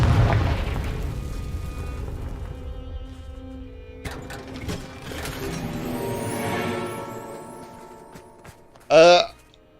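A Confringo spell explodes in Hogwarts Legacy on the Switch with a deep booming burst that rolls into crackling, whooshing debris. A short vocal outburst cuts in near the end.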